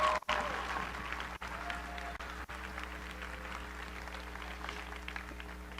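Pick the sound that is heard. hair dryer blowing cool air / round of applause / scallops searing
round of applause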